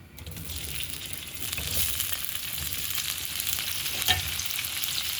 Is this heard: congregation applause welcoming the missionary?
no